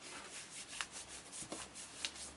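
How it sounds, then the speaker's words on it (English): A hand rubbing firmly over a card to burnish an image pressed onto it during card-making, a series of soft, dry swishing strokes with a few sharper scuffs, close and quiet. "To give that a good rub"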